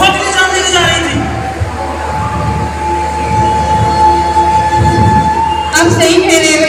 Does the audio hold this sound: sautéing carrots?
no